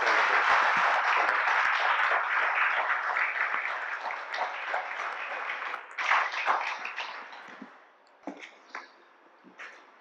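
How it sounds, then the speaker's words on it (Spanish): Audience applause welcoming guest speaker Juan José Tamayo at an evening talk in Los Angeles, a steady wash of clapping that thins and fades out in the last few seconds, leaving a few scattered claps. "Recibamos con un gran aplauso a nuestro invitado"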